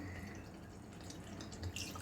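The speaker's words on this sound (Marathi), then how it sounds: "तर हे पाणी मी आता ह्यात ॲड करते." Water pours into a pan of marinated chicken for biryani, a soft continuous splashing and trickling heard close but faint, with no talk.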